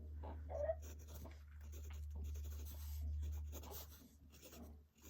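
Fountain pen with an extra fine nib writing on paper, a faint, close scratchy rasp of strokes over a low steady hum.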